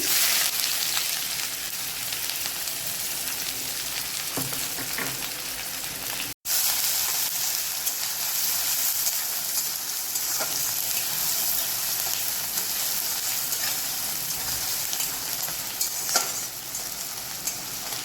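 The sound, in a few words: frying chopped onion for chicken liver curry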